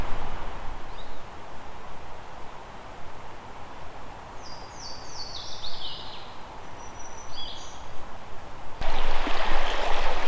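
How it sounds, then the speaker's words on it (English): A brook flows steadily through a forest, a broad rushing wash of water close by, with a few brief bird chirps overhead and a sudden louder burst of water noise near the end. "So I decided to sit, relax, and enjoy the sounds of the forest."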